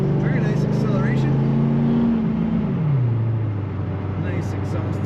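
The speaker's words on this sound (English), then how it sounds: "Nice exhaust sound from this car." A 1990 Chevrolet Corvette coupe with an automatic transmission drones steadily while driving, its low exhaust note easing down in pitch as it settles. A voice talks over it throughout.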